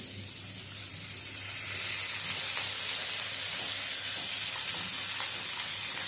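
Cut flat beans (shim) fry in a pan with tomato, a loud, steady, close sizzle and hiss that jumps up in intensity partway through and holds continuously, with no talking.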